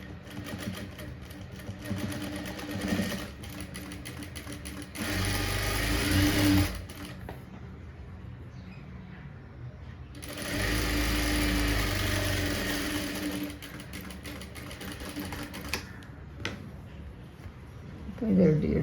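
Sewing machine stitching a V-shaped strip onto a blouse front runs in two distinct bursts of fast mechanical whirring, separated by quieter pauses with a voice talking.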